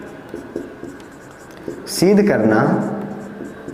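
Chalk or marker scratches across a classroom board in short strokes while someone speaks over it, followed by a louder, longer scraping stroke.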